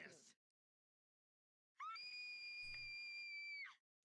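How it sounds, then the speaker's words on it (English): A single loud, sustained scream lasting about two seconds from the Inuyasha PS2 video game, preceded by a brief sharp burst and otherwise silence. "Oh, that was a big scream."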